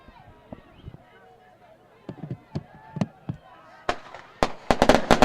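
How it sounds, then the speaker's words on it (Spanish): Fireworks set off by 1 de Mayo fans at a football match against Guaraní crack and pop in sharp bursts, sparse at first, then quicker and louder, with voices in the background. "Ahí los fuegos artificiales del equipo de 1 de Mayo"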